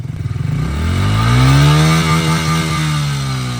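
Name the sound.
stock pit bike engine revving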